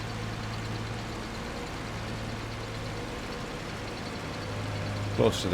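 A tractor pulling a mulcher in Farming Simulator 25 drones with a steady, low engine hum the whole way through, then a brief clunk comes near the end.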